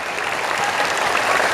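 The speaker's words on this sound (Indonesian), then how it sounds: "Anak-anak tepuk tangan buat sponsor kita." Children clapping together for event sponsors at a school anniversary showcase, an even, continuous patter of many small hands at steady loudness throughout.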